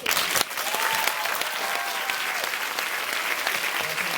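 Festival audience applauding the guests after a film Q&A in Paris, dense clapping throughout that swells at the start and holds steady, with a few faint voices underneath.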